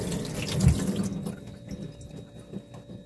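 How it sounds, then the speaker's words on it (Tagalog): Tap water runs steadily into a sink while a radish is rinsed under it, with splashing and small drips close by, the flow thinning out toward the end. "babanlawan natin ang ating radish"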